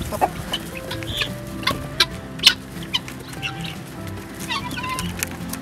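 Loud calls from white guinea fowl on a farm ring out repeatedly, sharp harsh cries and clucks in an irregular rhythm from birds nearby.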